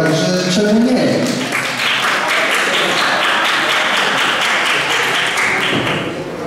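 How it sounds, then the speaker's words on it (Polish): Audience applause at a reading knowledge quiz tournament, steady crowd clapping filling the room, loud and sustained before tapering slightly at the end. "Możecie głośniej klaskać, naprawdę to było ciężkie"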